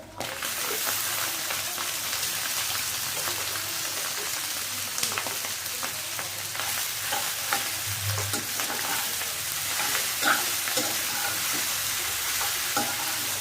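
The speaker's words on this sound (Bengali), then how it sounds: "ভালো করে আমি ওলট পালট করে দিচ্ছি।" Pasta is turned over in a hot, sizzling pan with a little salt added. Constant loud frying hiss runs throughout, with scattered clinks and scrapes from the stirring.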